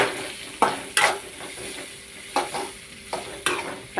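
Kanda poha with green chillies fries in a pan under a soft, steady sizzle, punctuated by several distinct scraping and clinking spoon strokes as it is stirred, close and fairly clear.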